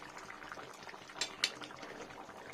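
A pot of cauliflower curry bubbling on the stove, a faint, steady simmer with soft popping bubbles and a couple of sharper small pops.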